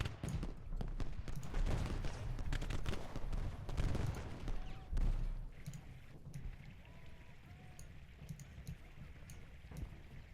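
Civil War cannon and musket fire in the strategy game Ultimate General: Gettysburg, with dense crackling volleys and heavy booms for about five seconds before thinning into scattered distant shots.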